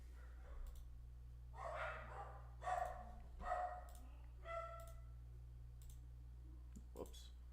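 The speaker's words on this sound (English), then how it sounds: "Excuse the dogs in the background" Dogs bark and yip in short excited bursts somewhere in the background of an indoor room, moderately loud against a steady low electrical hum, with a few clicks near the end.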